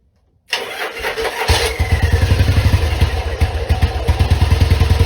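A Yamaha engine cranks over briefly, then catches and settles into a steady, loud, close running idle with a rapid even pulse.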